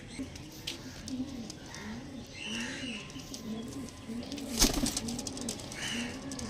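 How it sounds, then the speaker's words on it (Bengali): Pigeons of an Andhra breed line coo in repeated soft, rolling phrases at close range, a steady cluster of throaty calls with a brief sharper noise partway through. "দেখো পায়রাগুলো"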